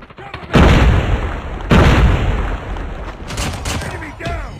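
Grenade blasts in the Call of Duty Mobile shooter: two loud booming explosions a second apart with rumbling tails, then scattered softer gunfire and effects.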